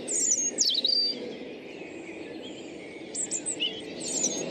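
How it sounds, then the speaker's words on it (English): A robin sings from a tree overhead in Saltwell Park in spring, bursts of high, thin warbling phrases near the start and again toward the end, clear above a steady outdoor background rumble. "there's a robin right over your head, just singing in the tree above"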